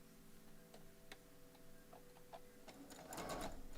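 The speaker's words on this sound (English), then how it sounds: "You're just sewing all of the pieces in row number 1 with that scant 1/4 inch." A sewing machine stitches quilt pieces for a pixel-quilt duck block with a scant quarter-inch seam; a few quiet clicks and ticks come first, then a short, loud burst of close stitching near the end.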